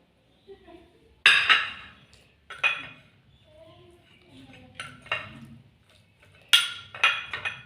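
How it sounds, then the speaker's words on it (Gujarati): Carrots being stirred into garlic chutney in a metal bowl, with sharp spoon clinks and scrapes arriving in irregular bursts between quieter mixing, close and fairly loud. "ગાજર અંદર નાખીને એકદમ સરસ મિક્સ કરી લેવાના"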